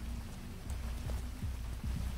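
Rain falling outside in a city, a faint steady patter with soft low rumbling underneath, heard alone at low level.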